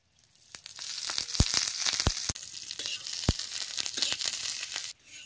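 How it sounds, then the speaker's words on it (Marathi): Green chillies roast in ghee with a bright, steady sizzle and crackle, punctuated by several sharp pops and spatters, before the sound cuts off abruptly near the end. "आता या मिरच्या भाजायला जरा तूप घालतो की"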